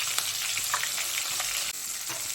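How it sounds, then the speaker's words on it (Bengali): Koi fish fry in hot oil in a pan, a continuous close, loud sizzle with small pops and crackles, briefly dipping once before resuming. "মাছগুলোকে লাল লাল করে ভেজে নেব 2-3 মিনিটের জন্য।"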